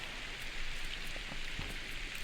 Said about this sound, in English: I didn't know it was raining during this chapter.